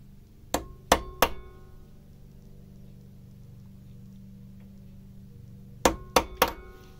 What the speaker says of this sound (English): So I'm just going to dash in a couple of punch marks